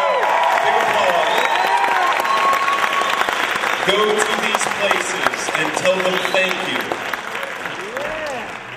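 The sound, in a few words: audience applause for sponsors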